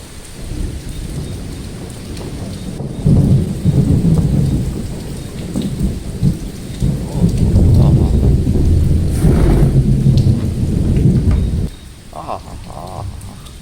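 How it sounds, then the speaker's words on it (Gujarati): Heavy rain pours steadily while deep thunder rumbles and rolls several times, loud and close, with no voices. "ધબ ધબધબાટે વરસાદ ગાજે છે"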